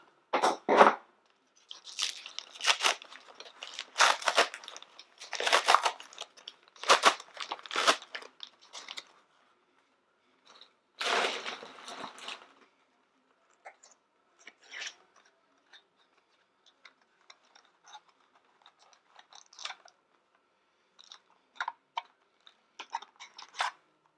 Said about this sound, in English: Why do I have to make these damn bags so impossible to open?